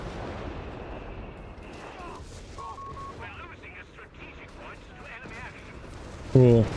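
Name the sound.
artillery fire in the video game Company of Heroes 3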